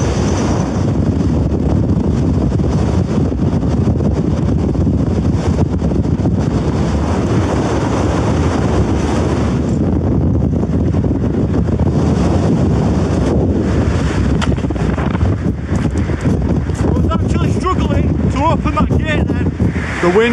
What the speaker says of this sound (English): The wind behind that wall sounds absolutely ruthless.